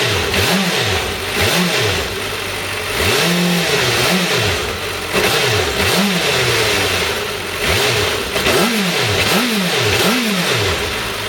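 A motorcycle engine idles loudly nearby while the throttle is blipped repeatedly, each rev rising and falling in a rhythmic series.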